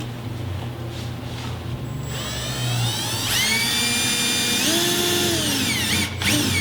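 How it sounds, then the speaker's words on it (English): A power drill whines steadily while drilling a hole on an Acura Integra, its pitch rising and shifting as it bites into material, loud and close with a low motor hum beneath. "now you can drill your hole"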